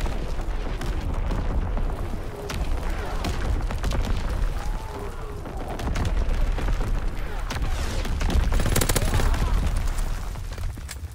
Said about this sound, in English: Azon bomb mission underway. Firing for full effect.